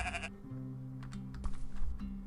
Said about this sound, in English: there's nothing to do here except pet a bunch of dang sheep